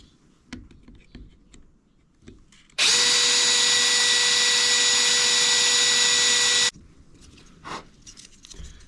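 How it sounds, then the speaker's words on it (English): A power drill bores out a hole for a transducer cable on a Viking Profish 400, one sustained high whine of about four seconds, loud and close, between quieter handling noises. "I'm just going to have to drill this out a little bit more where my thumb is"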